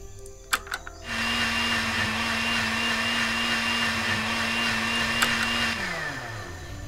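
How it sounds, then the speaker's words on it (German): A blender in the video game Deponia Doomsday whirs loudly and steadily for several seconds with a strong droning hum, then winds down near the end, after a few short clicks at the start. "Tackleberry Finn darf nicht in den Mixer."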